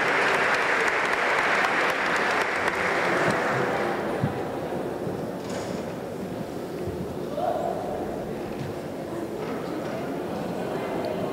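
Sustained audience applause at a corporate awards ceremony in São Paulo, steady broad clapping that gradually softens, with faint voices mixed in.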